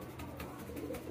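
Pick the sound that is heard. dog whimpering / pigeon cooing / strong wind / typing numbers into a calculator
pigeon cooing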